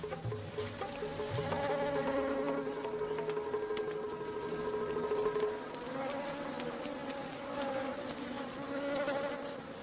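Swarm of wild bees buzzes continuously around a honey collection site in the Sundarbans mangrove forest, the layered droning whine holding steady and fairly close throughout.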